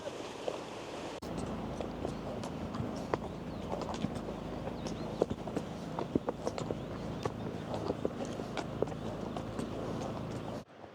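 A horse walking on a mountain excursion near Almaty, steady clip-clop hoof steps continuing throughout over a bed of outdoor ambience, with faint birdsong.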